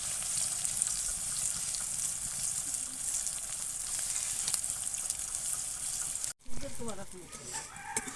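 Eggplant frying in hot oil in a pan, a steady dense sizzle throughout that breaks off briefly and resumes with some clattering as the pieces are turned over.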